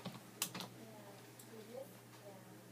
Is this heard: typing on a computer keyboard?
yes